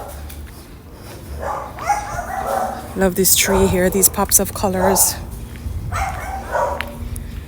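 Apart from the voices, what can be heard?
dogs barking in a Merida neighborhood street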